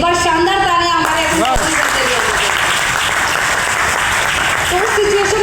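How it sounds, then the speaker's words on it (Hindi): An audience at a business talk breaks into strong, sustained applause that fills the room, while a speaker's voice and some tonal sounds carry over it at the start. "एक बार शानदार तालियां हमारे"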